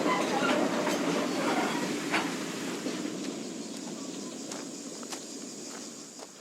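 Twin Brissonneau railcars rumble steadily along a metre-gauge line between Fréjus and Saint-Tropez, with light clicks and clanks from the wheels over the track, heard close and continuous.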